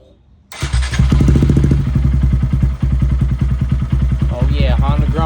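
A single-cylinder Honda GROM motorcycle with an aftermarket exhaust fires up after a short cranking burst, then settles into a loud, close, rapid thumping idle, and someone speaks briefly over it near the end.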